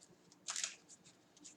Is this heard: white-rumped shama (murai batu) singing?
no